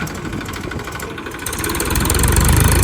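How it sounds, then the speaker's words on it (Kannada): A tractor engine runs close by with a steady, rough idle that grows louder and heavier toward the end. "ಅವರೇ ಟ್ಯಾಕ್ಟ್ರನ್ನ ಬಿಡ್ತಾರೆ"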